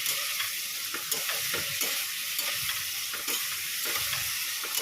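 Spice paste for a paneer curry sautéing in a pan, a steady close sizzle with soft stirring scrapes running throughout, no voices.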